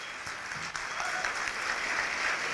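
A conference audience claps steadily in sustained applause for a couple of seconds, a dense even patter of many hands.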